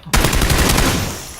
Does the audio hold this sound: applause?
no